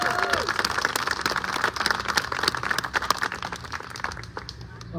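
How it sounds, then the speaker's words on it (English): A crowd applauds election workers at a newly elected officials' swearing-in ceremony, with dense, steady clapping throughout and speech mixed in. "So if we just give Carrie a round of applause, all of our election workers"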